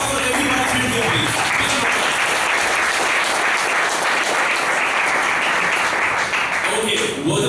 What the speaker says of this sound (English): A big round of applause for everybody here